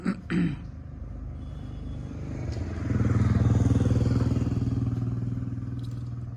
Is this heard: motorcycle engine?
yes